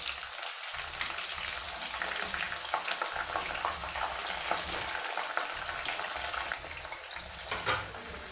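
Long-sliced onions, two large ones, hit hot spice-infused oil and fry with a steady loud sizzle and crackle, scraped and stirred with brief spoon knocks throughout; no voices.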